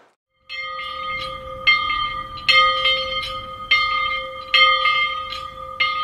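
Church bells ring from a tower, loud and close, with clear ringing metallic strikes that repeat about every second and overlap into a sustained chime.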